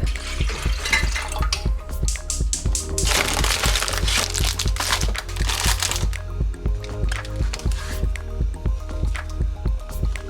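Water heats toward a boil for steeping green tea for kombucha, with dense crackling, ticking and popping that swells into a louder hissing rush midway, then settles back to scattered crackles; no voices.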